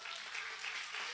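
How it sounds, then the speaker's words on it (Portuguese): Steady applause from a church congregation during a sermon, a dense even wash of many hands clapping with no pauses, moderately distant and fairly faint. "Aplauda bem forte ao Senhor Jesus"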